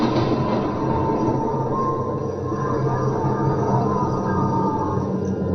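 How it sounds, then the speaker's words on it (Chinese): Synthesized storm effect from an ATOMS synthesizer, a dense, steady rumbling roar of wind and rain, loud and unbroken throughout with no voices. "这是暴风雨的音效"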